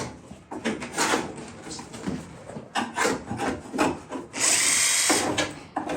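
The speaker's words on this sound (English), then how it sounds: "taking all these screws off so we can get the old thermoplay out" A power tool backs screws out in the motor compartment of an Irwin sailboat, with repeated bursts of whirring and grinding, short pauses between them and a longer, higher whine near the end, fairly close.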